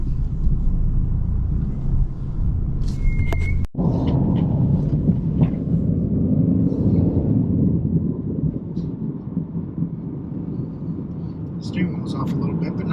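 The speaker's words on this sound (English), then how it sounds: "Let's take the Subaru for a drive." A Subaru with newly fitted rear struts, replacing a leaking one, on a drive, heard as a steady low interior road rumble with a brief thump partway through and speech over it.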